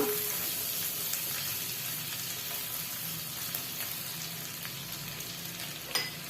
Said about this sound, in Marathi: हिरवी मिरचीचे बारीक केलेले तुकडे मिक्स करून परतून घेऊया